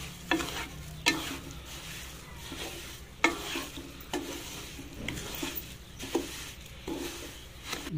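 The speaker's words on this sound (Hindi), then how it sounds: "अब हम इसमें चीनी डालेंगे चीनी को मिक्स करेंगे" Sugar being stirred into sizzling semolina halwa cooked in oil, village style, with repeated scraping strokes of a spoon against the pan over a constant frying hiss.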